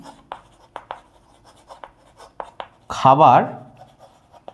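Pen scratching out an answer during a Class 5 arithmetic lesson: short separate strokes with light taps, then a denser, louder scribbling burst near the end, and a voice briefly speaks.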